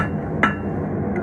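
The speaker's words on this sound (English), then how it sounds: "Just hammer it up." A single sharp hammer strike rings out on an anvil while an iron knife guard is being forged, a close metallic clank over a low steady workshop hum, with a faint second tap near the end.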